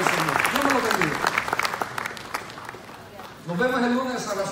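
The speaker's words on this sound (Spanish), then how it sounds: "Denos un aplauso, Señor, de todo corazón" A church congregation claps in a steady burst of applause with a voice speaking over it, then the clapping fades briefly before a voice rises again over renewed applause.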